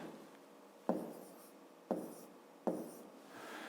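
Numbers are handwritten for a fifth-grade maths exercise: a soft, continuous scratch of pen on paper with three distinct taps as strokes begin, close and quiet.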